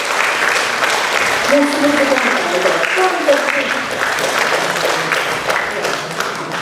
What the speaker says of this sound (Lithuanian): Plojam, plojam, plojam ir kviečiam.